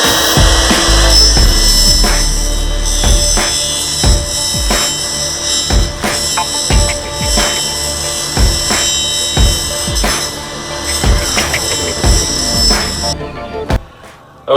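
A table saw ripping thin material at a bevel, a loud continuous whine with repeated rough cutting bursts as the stock feeds through, ending abruptly as the blade winds down.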